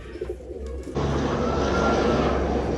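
A pair of pigeons, a blue-shade female and a gold-shade male, coo steadily in a pen, the sound becoming louder and more continuous about a second in with dense background noise.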